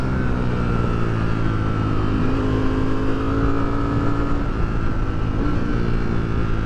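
A Ducati Streetfighter V4S motorcycle rides with a steady, loud engine drone, its pitch holding level and shifting slightly partway through, heard close without talk.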